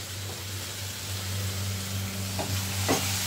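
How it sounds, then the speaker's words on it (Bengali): Shrimp cooked with spices for a Bengali pui chingri dish sizzle and fry in a pan, with a steady hiss under a few sharp scraping stirs near the end. "এবার আমি এটাকে একটু নেড়ে নেব ভালো করে, মশলাটার সাথে কষিয়ে নেব।"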